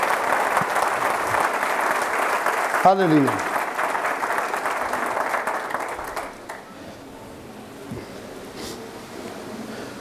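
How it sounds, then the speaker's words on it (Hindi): Congregation clapping loudly during a Friday church sermon, a dense wash of applause that tapers off after about six seconds, with a voice calling out briefly over it. "जोरदार तालियों से खुदा के नाम को बोलेंगे"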